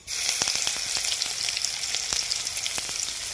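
Cloves, cinnamon, cardamom, cumin and grated garlic sizzle in hot oil, a loud, steady frying crackle with scattered sharp pops, close and without voices.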